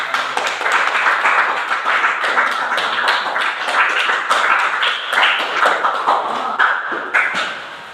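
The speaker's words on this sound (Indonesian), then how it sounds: "kita beri aplaus dulu untuk kelompok 2" Steady applause from a classroom audience for a student group finishing a presentation on food additives, dense clapping that holds at a loud level throughout and thins slightly at the end.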